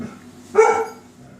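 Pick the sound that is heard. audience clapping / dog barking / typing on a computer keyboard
dog barking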